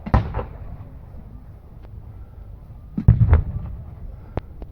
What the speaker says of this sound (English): Now some British artillery dropping in, softening the German army up.